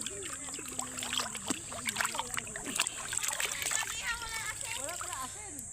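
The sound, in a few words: water splashing while washing milkfish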